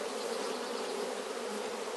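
Honey bees buzz loudly and steadily inside an open hive while a colony is being split, a dense close-up drone with no pauses.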